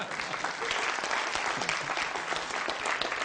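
A studio audience at an Italian comedy show breaks into applause, a thick, continuous roar of many hands clapping at once that stays loud and even throughout with no talk over it.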